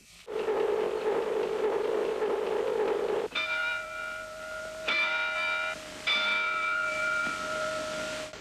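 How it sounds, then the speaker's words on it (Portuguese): A ship's lookout bell strikes three times, each ring resonant and lingering, after a steady tone that cuts off abruptly. "vocês ouvirão 3 toques do sino do vigia"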